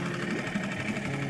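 A fishing boat's outboard motor idles on a reservoir at Flaming Gorge, Utah, a steady, fairly loud mechanical hum with a fast, even chatter and no talking.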